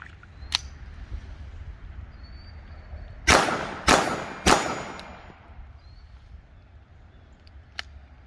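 Browning Buck Mark .22 rimfire pistol loaded with CCI Mini-Mag high-velocity rounds striking a steel target outdoors: three sharp metallic clangs in quick succession, with a few fainter pings before and after.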